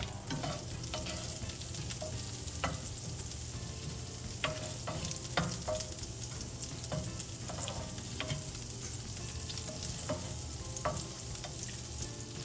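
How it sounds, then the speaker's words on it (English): Two tablespoons of unsalted butter melt and sizzle in a pan, a soft, steady crackling hiss with scattered faint pops and light clicks, heard alone without voices. "First, we're going to add in 2 tablespoons of butter, unsalted butter."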